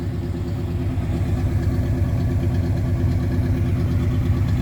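A 1968 Oldsmobile 442 V8 idles steadily just after a cold start, a loud, close, even rumble with a regular low pulse and no voices over it.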